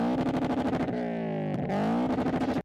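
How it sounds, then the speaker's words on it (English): A Subaru boxer engine in a Toyota 86 / Subaru BRZ sports car revs, a loud, steady throbbing drone whose pitch dips and climbs again, close up and without voices. "You get a boxer engine that sounds like this."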